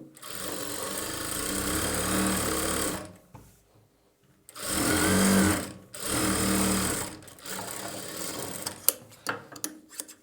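Sewing machine stitching a straight seam on a boat-neck blouse, in three bursts of rapid whirring separated by brief pauses, close and clear, followed by a few small clicks.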